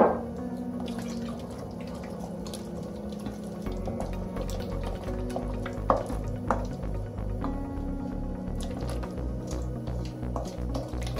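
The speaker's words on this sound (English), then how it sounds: "I'm going to add just half of the almond milk first" Almond milk is poured into a pumpkin puree mixture in a quiet kitchen, giving a soft, steady liquid trickle with occasional wet drips and small clinks. No one speaks.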